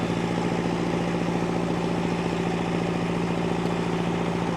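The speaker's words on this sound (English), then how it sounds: "The motor of the generator is a bit louder." A diesel generator mounted on a rescue truck runs steadily, giving a constant droning engine hum with no breaks or changes in pitch, heard up close and alone.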